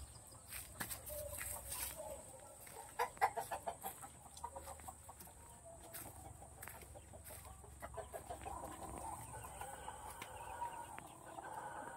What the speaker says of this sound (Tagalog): Daming manok dito sa bahay.